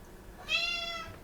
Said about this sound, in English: I got a scrawly cat going on over here